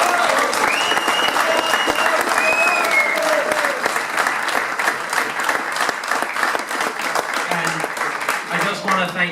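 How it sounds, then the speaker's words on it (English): Crowd at a football club's end-of-season awards night gives a sustained round of applause, close sharp claps with a few whoops and cheers mixed in, the clapping fading slightly toward the end. "So big round of applause, well done."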